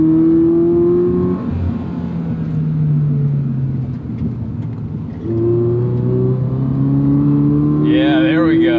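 A Toyota GR86 engine revs and pulls under acceleration, its pitch rising and falling in sustained harmonic drones, with a brief higher whine near the end.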